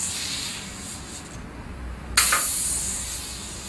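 A Seitz steam spotting gun gives a soft hiss near silk, then a sudden louder burst of steam that keeps hissing steadily until the end.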